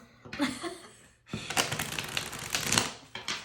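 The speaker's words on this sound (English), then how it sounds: "I'm really trying to be conscious of the volume of my shuffling." Tarot cards being shuffled near the microphone, with a quick riffle followed by a brief pause and then a longer run of crisp, rapid slapping and flicking, moderately quiet and with no talk.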